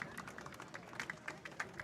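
Light applause from Harwich and Cotuit fans at a summer-league baseball game, faint and distant, a scattered patter of claps without cheering.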